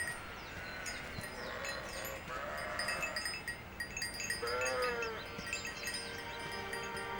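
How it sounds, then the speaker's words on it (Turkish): A lamb and sheep bleat several times in a rural outdoor setting, the calls rising and wavering over steady background noise, fairly close and clear, with a pause before a louder bleat near the end. "Yo benim kuzu vardı burada."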